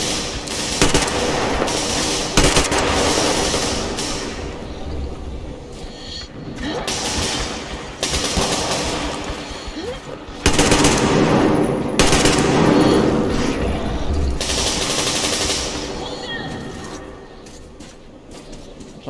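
Sustained gunfire in the video game Metro Exodus: repeated bursts of rapid automatic shots and single loud reports throughout, dense and close.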